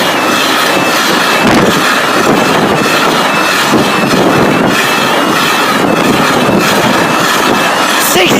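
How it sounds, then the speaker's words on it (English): Freightliner Class 66 freight train carrying track sleepers rumbling loudly past a level crossing in Worcestershire, with a steady roar of engine and wagons and rhythmic clatter of wheels close by. "Got a Freightliner coming."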